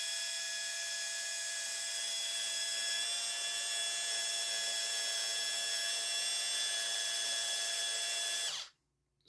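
Power tool on a P51 zip tie mod driving a nut: a steady, high-pitched whirring whine runs unbroken for about eight seconds, then stops abruptly into silence.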